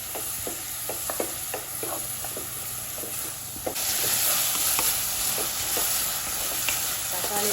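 Chopped tomatoes cooking in a pan for Kerala-style tomato chutney, with a spoon scraping and stirring in scattered close clicks over a steady sizzle that swells into a louder, hissier fry about halfway through.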